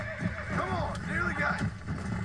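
A horse whinnies and neighs repeatedly in the Red Dead Redemption video game, in loud rising and falling calls with hooves clip-clopping underneath and a person talking over it.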